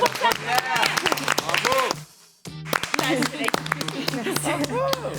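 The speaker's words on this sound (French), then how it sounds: "Bravo Clara, on l'applaudit." An audience on a French television programme claps for Clara, with rhythmic claps running under continuous talk and a brief near-silent pause midway before the clapping and voices resume.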